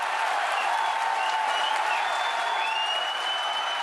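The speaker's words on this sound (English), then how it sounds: "You can hear our crowd going wild." A large crowd cheers and applauds continuously after Falcon Heavy booster landings at a SpaceX launch, a dense steady roar with scattered whistles, loud and sustained.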